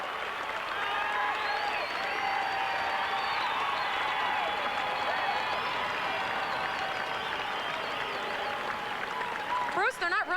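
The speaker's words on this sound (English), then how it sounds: "Just to hear the roar of the crowd makes you proud." A large stadium crowd roars and applauds steadily at the Wichita State Shockers 1989 College World Series championship celebration, a dense, distant wash of cheering that holds evenly for about ten seconds.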